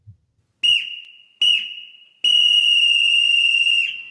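Three shrill referee whistle blasts: two short toots followed by a long sustained blow, loud and close, with no talking.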